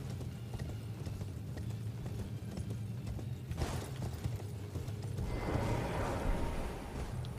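Torrent, the spectral horse in the video game Elden Ring, gallops with quick rhythmic hoofbeats, steady and close, swelling into a louder rushing burst near the end.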